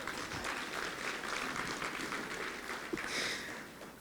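Sustained audience applause at a gala awards event, a dense steady wash of many hands clapping throughout, moderately loud and without pauses, swelling slightly near the end.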